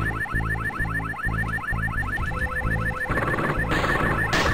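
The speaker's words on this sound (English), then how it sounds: "Lots of alarms." Alarms sound in the mech combat game Metaltech: Earthsiege, a rapid repeating electronic warble pulsing over low mechanical hum, then giving way to a harsher, noisier tone near the end, loud and without talk.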